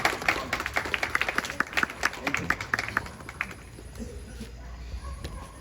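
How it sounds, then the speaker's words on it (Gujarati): An audience at a sermon gathering breaks into scattered applause, fairly faint and distant, with the claps tapering off after a few seconds into quiet room noise. "આપણે તાળી પાડીએ."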